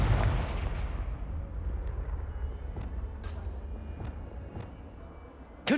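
A Confringo blast spell in the video game Hogwarts Legacy opens with a heavy, booming burst that rumbles and fades over several seconds. A few sharp, scattered pops follow, and a fresh blast hits at the very end.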